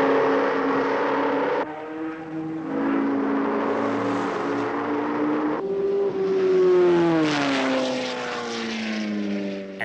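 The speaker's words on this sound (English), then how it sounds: "A visit to Warwick Farm in Sydney gave Matich the chance to shake down his new car, minus its new blue bodywork." Matich SR4 sports racing car engine being shaken down on the Warwick Farm circuit in Sydney, a loud close engine note rising and falling through gear changes with pitch swoops as it passes, alone without talk.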